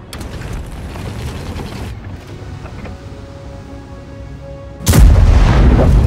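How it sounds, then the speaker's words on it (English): A tank cannon fires in the video game World of Tanks: a single sudden, loud blast near the end, after several seconds of steady mechanical engine and track rumble. "They're firing at me."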